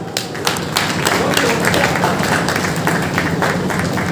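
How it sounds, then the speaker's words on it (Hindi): Crowd applause welcoming an official with a bouquet at a farmers' and livestock fair in Baliyali, Bhiwani, a dense, steady wash of many hands clapping throughout, loud and continuous with no clear gaps. "आपने जोरदार तालियां बजानी है"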